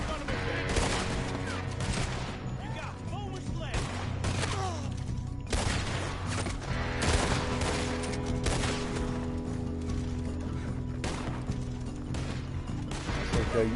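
Gunfire from Lemoyne Raiders in a Western-style video game, repeated sharp shots and bursts over a busy background of game sound and music, continuing throughout.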